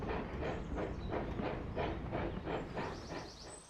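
A cartoon steam engine chugging along a railway in a race, with rhythmic puffing beats repeating steadily at a moderate distance against a continuous rumbling background.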